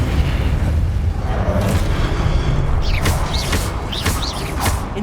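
Confringo blasting spells in Hogwarts Legacy boom with a sustained low rumble, then several whooshing, swooping magical bursts follow in quick succession over the roar.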